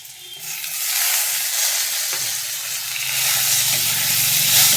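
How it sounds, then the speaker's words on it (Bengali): Tomato goes into very hot oil with browned onions, setting off a loud, close, hissing sizzle that swells and holds steady throughout, with a brief clatter near the start and no voices. "টমেটোটাকে দিয়েও একটু কষাবো"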